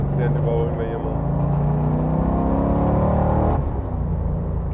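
An LS3 V8-swapped Subaru BRZ accelerating hard to overtake, its deep engine note rising steadily in pitch then dropping off as the throttle lifts, loud from inside the car with a voice over it.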